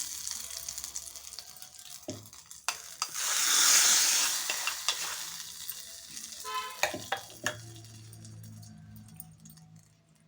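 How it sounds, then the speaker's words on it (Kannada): Chilli and curry leaves are tossed into hot oil for a tempering, bursting into a loud sizzle that swells and fades. Stirring clinks and scraping rattles of the pan sound close by before and after. "ಒಗ್ಗರಣೆ ಹಾಕ್ಕೊಳ್ತೀನಿ."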